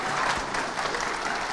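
Steady, dense audience applause filling the hall at the OTV Foresight 2023 convention in Odisha, continuous throughout with no pauses.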